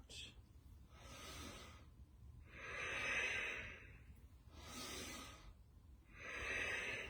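Breathing during a yoga exercise with cactus arms, drawn in and pushed out in slow, steady breaths about every two seconds, close and airy with no talk over it.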